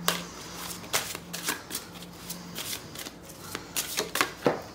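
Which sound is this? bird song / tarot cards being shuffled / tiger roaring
tarot cards being shuffled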